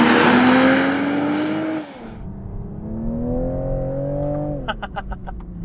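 A Toyota GR Supra A90, a rear-wheel-drive sports car with 340 horsepower, accelerates hard on a mountain road. The engine revs rise loudly, dip at a gear change, then climb again, ending in a few sharp pops.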